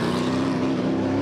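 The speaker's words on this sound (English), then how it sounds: "just waited to hear the engine go up" Race car engine revving in the pit lane during an IMSA sports car race pit stop, a steady loud mechanical drone with a strong sustained tone, close and continuous throughout.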